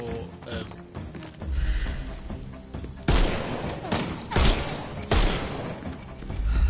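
Gunfire in the Sherlock Holmes video game: several sharp, loud shots crack out in a rough rhythm over game ambience and mechanical clicks, with a player talking over parts of it.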